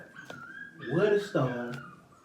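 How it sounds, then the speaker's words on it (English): Dogs in a home setting give short yips, whimpers and a couple of barks in the background, rising to a cluster of whiny cries mid-clip while a person talks over them. "Y'all might hear my dogs in the background"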